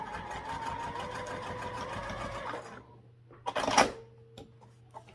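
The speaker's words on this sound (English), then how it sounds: "we're going to top stitch this fold" A sewing machine top stitching a fold in a Marilyn wallet, running in a rapid steady whir for a couple of seconds, then stopping, followed by a brief clack and a low residual hum.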